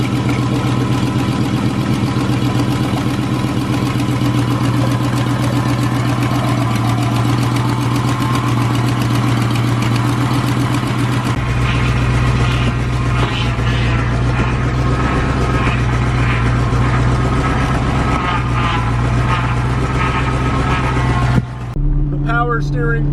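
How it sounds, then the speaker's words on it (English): Car engine idling steadily after a power steering fluid change and bleed, with a faint high whine from the power steering pump riding over the low hum; a voice talks over it throughout, and a brief clunk and shift come near the end. "Power steering pump is still gonna whine a little tiny bit"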